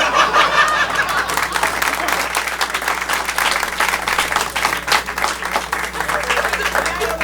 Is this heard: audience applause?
yes